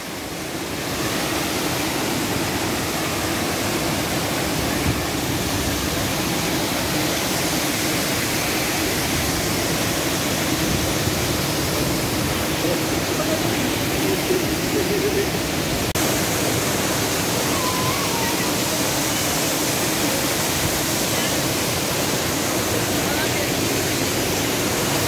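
A waterfall in Manali roars as a loud, continuous broadband rush of falling water, unbroken and close for the whole stretch, with no other sound standing out.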